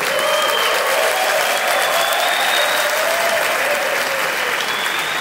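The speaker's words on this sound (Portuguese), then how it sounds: "Uma salva de palmas para os nossos servidores." A crowd at a Brazilian Ministry of Culture event gives loud, dense, continuous applause for the ministry's staff, a steady roar of clapping with faint whistles riding over it.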